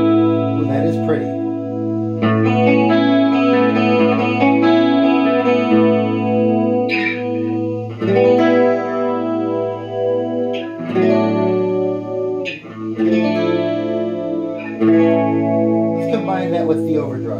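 A guitar runs through the ensemble chorus effect of a Rowin DAP-2 multi-effect pedal set to high level and depth, strummed chords shimmering and swirling in sustained washes with a few brief pauses between phrases, close and loud.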